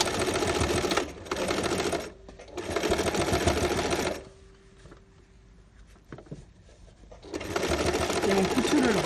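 A sewing machine stitches a backstitch on a hot water bottle in loud rapid bursts separated by quiet pauses, with a faint hum and small handling noises in the gaps.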